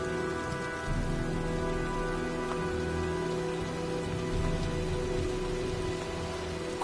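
Rain falls steadily in the video game Heavy Rain as a storm approaches, a dense constant patter on surfaces with a faint low rumble beneath and no voices.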